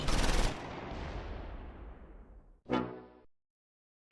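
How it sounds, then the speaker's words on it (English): Machine gun fire from a German Panzer tank in the Close Combat 4 Battle of the Bulge war game: a loud, sharp burst that rings out and fades, then a second shorter burst, with no voices. "The bazooka team come under machine gun fire from the Panzer."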